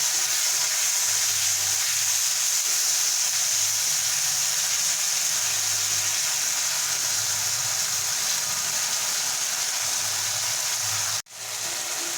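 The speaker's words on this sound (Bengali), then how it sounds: "টমেটোটা ভাজা হয়ে গেছে" Tomatoes frying with salt in a pan for a rohu fish curry (macher jhal), a steady close sizzle that runs unbroken for about eleven seconds and then cuts off abruptly near the end.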